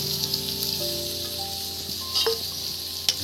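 Carrots and beetroot being stirred and fried in a pan for vegetable chop, giving a steady, close sizzle with a few soft scraping stirs throughout.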